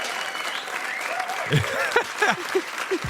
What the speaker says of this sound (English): give a big, warm round of applause to our special guest today